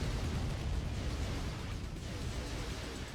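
Unit fire pounding a tank in Command & Conquer Remastered, a steady dense wash of low rumbling blasts and booms that runs the whole time with no clear gaps.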